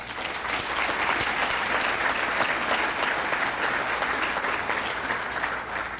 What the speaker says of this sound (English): We just give them a round of applause.